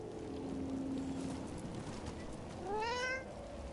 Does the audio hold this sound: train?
no